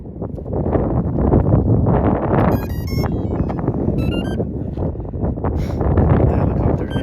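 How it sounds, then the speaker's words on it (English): Strong gusty wind of up to 25 mph buffets the microphone with a loud, continuous roar, rising and falling, with faint high electronic beeps from an RC helicopter drone in between. "Very windy conditions today."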